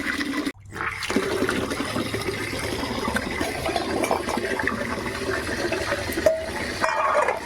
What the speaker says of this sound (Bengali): এখন আমি জল ভরে নেবো